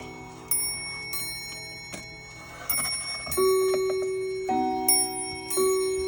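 A Linden regulator clock in a clock collection strikes its chime rods in a sequence of ringing, sustained tones that overlap and decay, with faint ticking audible beneath and no talking.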